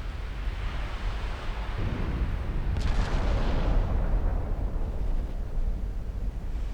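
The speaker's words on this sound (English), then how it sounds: "Some fully penetrating battleship caliber high explosive shells" Battleship-caliber high-explosive shells firing and striking in a naval warfare video game, heard as a continuous loud rolling roar of heavy gunfire and impacts that swells midway and rumbles on without pause.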